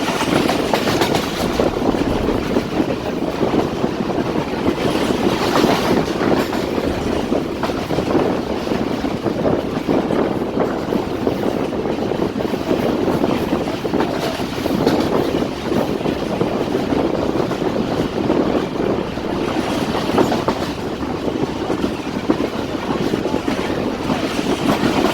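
The Jaffar Express train rolls steadily along the rails between Lalamusa and Jhelum, Pakistan, a constant loud rumble with faint clickety-clack and wind buffeting throughout, no voices.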